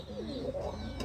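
Large fancy pigeons, including big Bombay pigeons, give a close, continuous rolling coo with a smooth tonal quality.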